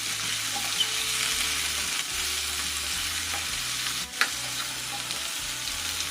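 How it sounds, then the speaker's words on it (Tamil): Sliced potatoes, soaked in water beforehand, go into a pan where garlic has fried until reddish-brown, giving a steady, close, loud sizzle with occasional stirring scrapes throughout. "பூண்டு நல்லா செவந்து வந்ததுக்கு பிறகு கிழங்கு சேர்த்துக்கிறேன்."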